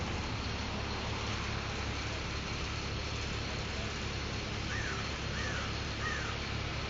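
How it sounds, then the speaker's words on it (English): Outdoor birds along a New Orleans streetcar avenue give a few faint, short calls late in the stretch, sitting over a constant hiss of street and ambient noise. "And there are a lot of birds singing."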